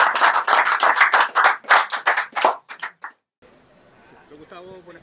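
An audience claps in a burst of distinct, fairly loud handclaps for about three seconds, thinning out before stopping, followed by a quieter stretch where a voice begins speaking.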